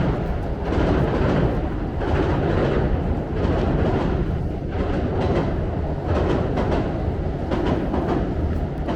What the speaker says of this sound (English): Yeah, there's a train. This is the loop line.